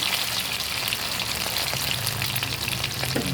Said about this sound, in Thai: ทำการทอดกุ้ง กุ้งหอม